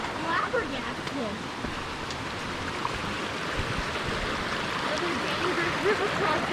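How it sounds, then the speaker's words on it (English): Rushing water of a mountain river at an early-season crossing on the Snow Lake Trail near Snoqualmie Pass, a steady broadband roar filling the scene with a few faint voices. "Another dangerous river crossing."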